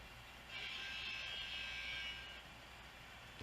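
A Kato N scale Amtrak model locomotive runs on a layout, a steady, fairly quiet electric whir with a high motor whine that starts abruptly and holds for about two seconds before easing off.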